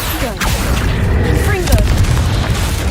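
A fire spell is cast in the video game Hogwarts Legacy, a dense booming rush of flame and impacts that roars continuously and loud, with a voice calling out over it.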